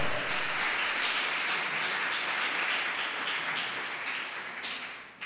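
A church congregation applauds in sustained, dense clapping that fills the space, steady and loud before tapering slightly toward the end, with no voices over it.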